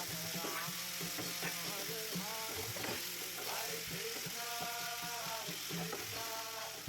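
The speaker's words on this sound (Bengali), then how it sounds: "এখানে ভালো করে একটু কষিয়ে নিতে হবে" Ginger paste and asafoetida frying in a kadai for a soya chaap dish, a steady loud sizzle with scraping stirs and a few clinks of a spoon running throughout.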